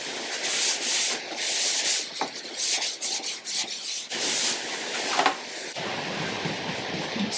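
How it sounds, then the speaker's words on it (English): A cloth wipes excess paint wash off a piece of timber, making close, scratchy rubbing strokes in uneven bursts with short pauses, then a softer continuous rub toward the end, with no voices. "just wipe off that excess straight away"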